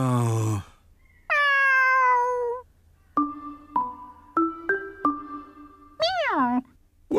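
A cartoon cat gives a few distinct, drawn-out meows, separated by pauses and interspersed with short tonal chimes.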